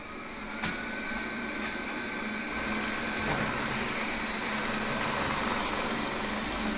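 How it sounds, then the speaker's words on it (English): A Xiaomi robot vacuum starts up and runs with a steady, fairly loud whirring motor hum, broad and constant, with a faint click near the start and no voices. "and then the vacuum takes off."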